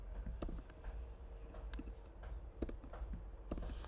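Computer keyboard typing on a coding setup, a run of scattered light key clicks with a few sharper presses like the enter key, close and fairly quiet over a low background hum, no talking.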